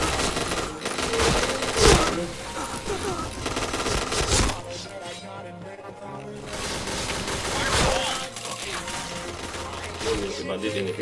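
Rapid automatic gunfire in the shooter game Point Blank, dense bursts of shots with brief pauses between them, loud and close, with a voice talking underneath.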